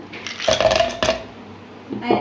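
Hard clattering clinks as ice cubes tumble into a blender jar, two quick bursts followed by a softer knock near the end.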